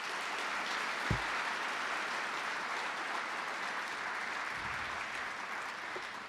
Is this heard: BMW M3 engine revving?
no